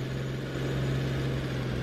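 Low, steady engine drone of a farm tractor driving in a farming simulator game, a constant humming rumble up close with no speech.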